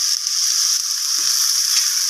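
Chickpeas fry with chopped chillies in a hot pan, giving a steady, bright, hissing sizzle close up, with a faint scrape of stirring partway through and no voices.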